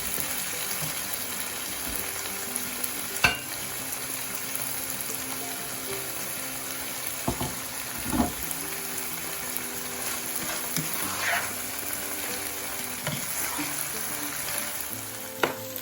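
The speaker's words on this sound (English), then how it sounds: "just going to let it fry until further till the meat becomes a bit tender and absorb all juiciness from the tomatoes" Mutton sizzles steadily in a pan with tomatoes, curry leaves and green chilies, a soft continuous frying hiss broken by occasional stirring clicks and scrapes.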